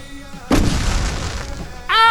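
Fireworks burst in the video game Alan Wake: a loud booming blast with crackling decay lasting over a second, followed by a bright whistling rise at the end, with no talk.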